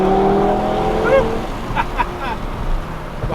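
An Audi TT RS Performance with all-wheel drive accelerates hard, its engine note rising and then fading, heard from inside the car under loud road noise.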